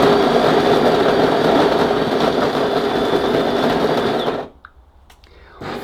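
A DeLonghi Magnifica bean-to-cup coffee machine grinds beans in a loud, steady, close whirring burr drone lasting about four seconds, then cuts off abruptly into near silence before a faint mechanical click and hum resume.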